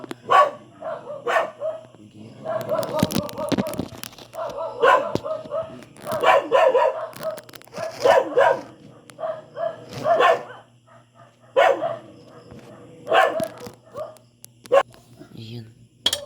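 A dog barks and yips repeatedly in the middle of the night, sharp and fairly close, with bursts spread across the scene while people talk over and between the barks.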